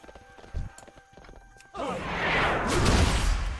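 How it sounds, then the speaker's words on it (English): Donkey mount hooves clip-clop in the World of Warcraft video game: a few sparse, clicking hoof steps, then a loud, dense wash of noise that fills the rest of the clip. "Sometimes you just need some donkey power,"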